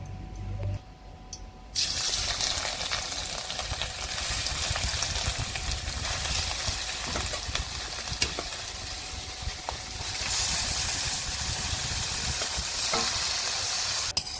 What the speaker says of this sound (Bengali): ঘি দিয়ে ভেজে নেব, হালকা হালকা ভেজে নেব